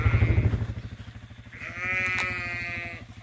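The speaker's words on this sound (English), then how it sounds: "making sure the lambs and ewes are okay" Sheep and lambs bleat close by on a hill farm during lambing, a couple of drawn-out, wavering calls standing over a low, steady engine throb.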